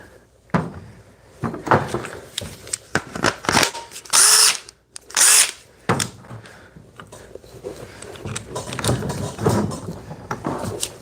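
A DeWalt brushed 885 impact driver fires in a series of short loud bursts and rattling pulses, close by, with a few sharp hammering spikes and brief gaps between.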